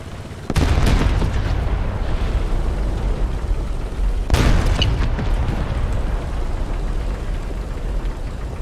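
Two heavy booming impacts strike a tank in the video game War Thunder, realistic battle on the Sinai map, the first near the start and the second about four seconds later, each followed by a rumbling tail.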